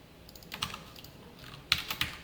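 Soft, sparse keystrokes tap on a computer keyboard while C code is entered, a few quiet isolated clicks followed by a slightly louder cluster near the end.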